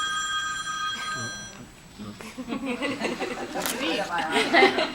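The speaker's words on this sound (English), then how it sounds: "What happens when the phone rings? You answer it." A telephone bell rings in a lecture room about biofeedback, with steady tonal ringing for the first second and a half, then people chatter and laugh under it as the ring fades out.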